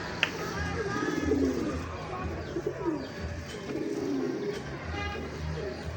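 Pigeons, prized high-flying birds, coo in soft repeated low phrases close by, with quiet voices and chirps mixed in the background.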